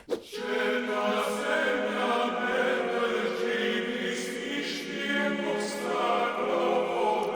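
Dense metal track with layered choir voices added on top, a sustained wall of harmonic vocals and heavy instrumentation playing continuously, loud and full throughout with no speech.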